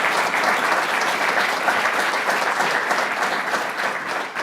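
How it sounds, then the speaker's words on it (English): An audience in a law school hall applauds the Dean with steady, dense clapping that holds evenly throughout, with no voices standing out. "Let's give the Dean a round of applause for his good work and his kindness."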